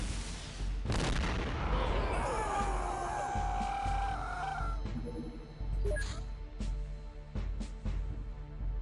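A rocket launches at enemies in the X-Com Files game with a sharp booming blast near the start, followed by a whistling flight and scattered thuds and crackles as the impact area burns.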